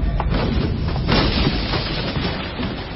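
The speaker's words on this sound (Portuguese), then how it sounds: "quebraram os jarros que levavam." Clay jars are smashed in a dramatization of Gideon's men breaking their pitchers, heard as a loud, dense burst of crashing noise with sharp hits scattered through it, no talking.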